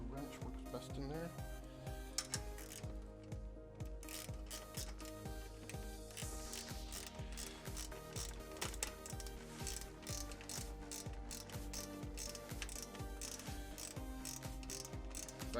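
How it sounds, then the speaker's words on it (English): A hand wrench ratchets again and again while tightening clamps on a subwoofer box for an MTX Audio X3-17-THUNDER3 install. Close, rapid clicking runs in steady bursts throughout, with a voice talking at times. "Actually, a wrench works best in there."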